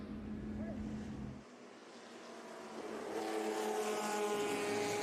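Warming-up race car engines in a paddock at a historic motorsport reunion at Laguna Seca, a faint broad roar with a quieter lull then a fuller droning rise, heard at a distance with wind on the microphone.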